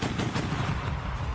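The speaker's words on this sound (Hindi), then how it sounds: "सबूत के तौर पर रूसी सेना ने एक वीडियो जारी किया जिसमें उनका एक टैंक अपने दुश्मनों पर ताबड़तोड़ गोलियां दागता नजर आया।" Rapid gunfire from a Russian tank firing on enemy positions in a war zone in Ukraine, a dense, continuous rattle of shots sounding loud and close throughout, with no voices.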